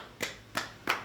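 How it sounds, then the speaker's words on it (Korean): Three separate hand claps, spaced roughly a third of a second apart, quiet and close, in a flower-arranging segment of a TV show, with no voices over them. "일단 박수 한번 주세요"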